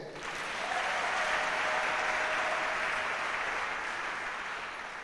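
A church congregation applauds together in a broad, steady wash of clapping that swells and holds throughout, loud and sustained with no speech over it.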